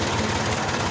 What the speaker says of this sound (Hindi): ट्रैक्टर को आहिस्ता ऐसे ही चला रहा हूँ, पहले गियर में ही लेकर के जाऊँगा